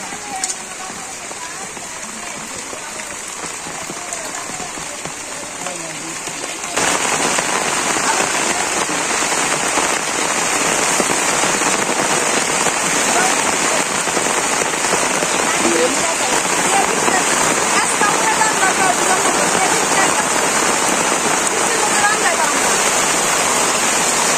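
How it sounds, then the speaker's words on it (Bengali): Steady rain falling outdoors, a dense broadband hiss of drops on surfaces that grows heavier after the first few seconds and continues evenly to the end, with no voices. "আবার নামছে বৃষ্টি।"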